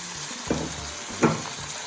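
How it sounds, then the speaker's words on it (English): Chicken pieces fry in a hot pan of butter with a steady, close hiss, and two brief louder sizzling bursts suggest the chicken being moved or stirred. Nobody speaks. "we've got it up to a nice sizzling temperature"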